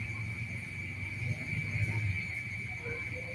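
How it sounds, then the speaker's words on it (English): Crickets or frogs chirp at night in Iloilo, Philippines, a steady high continuous trill running throughout, with a low background rumble beneath. "So you hear the crickets in the background."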